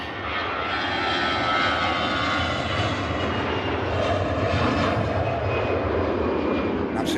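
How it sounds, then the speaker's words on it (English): An EasyJet airliner roars down the runway on takeoff at Manchester Airport, bound for Tenerife South; the jet engine noise is loud, broad and steady, holding close and powerful for the whole stretch without voices. "EasyJet off to Tenerife South, down in the Canary Islands."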